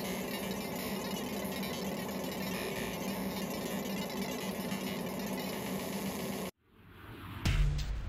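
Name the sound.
ComMarker 20 watt fiber laser running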